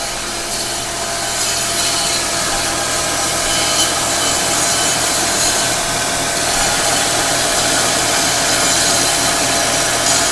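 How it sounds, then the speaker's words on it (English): A belt sander grinds steadily against a fabricated metal part in a workshop during a Fiero GT K20 engine swap, a continuous loud abrasive rush with no pauses and no talking. "That belt sander is pretty awesome, isn't it?"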